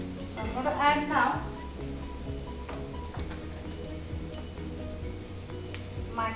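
Cumin seeds crackle and sizzle in hot oil in a pan, a steady close frying hiss with brief stirring sounds and scattered pops, faint and without speech.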